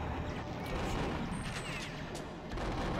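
Shotgun fire in Perfect Dark, set to double blast, booming in heavy, close bursts that blur into a continuous rumbling barrage under the game's other sounds.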